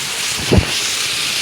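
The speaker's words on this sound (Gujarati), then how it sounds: "જોરદાર વરસાદ આવે છે" A steady, loud hiss of heavy monsoon rain in Surat, India, fills the short stretch, with one brief low thump in the middle.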